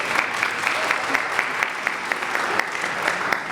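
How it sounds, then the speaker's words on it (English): Audience clapping at a community Martin Luther King Jr. celebration in Newton, a steady broadband patter of many hands with small sharper peaks, sustained evenly throughout, with no talk over it. "Yes, we can clap for that."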